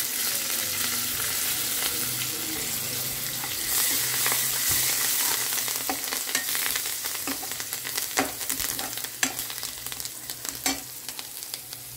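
Turmeric and curry leaves frying in hot oil for poha, a loud continuous sizzle with crackling pops that grow sharper and more scattered toward the end, no voices.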